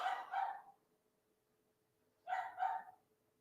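A dog barks in two short double bursts separated by a couple of seconds of quiet, sounding fairly faint and somewhat distant.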